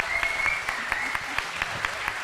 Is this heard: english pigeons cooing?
no